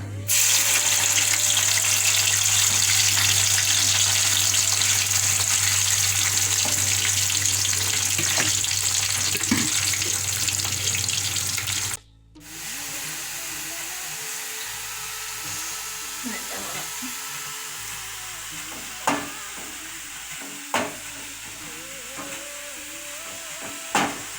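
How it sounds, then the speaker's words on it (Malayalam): Jackfruit pieces fry in hot coconut oil over a lowered flame, giving a loud, steady sizzle that cuts off sharply about halfway. Quieter kitchen clatter and water sounds follow, with a few sharp knocks. "വെളിച്ചെണ്ണ ചൂടായിട്ടുണ്ട്. അപ്പോൾ നമ്മൾ ഫ്ലെയിം ഒന്ന് കുറച്ച് കൊടുക്കണം. നമുക്ക് അതിലേക്ക് ചക്ക ഇടാം."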